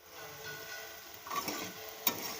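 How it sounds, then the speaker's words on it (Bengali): Carrots, potatoes and onions frying in a pan for chowmein, a quiet, even sizzle with soft stirring scrapes and a small clink near the end. "চাউমিন করবো তাই একটু গাজর আলু পেঁয়াজ ভাজছি"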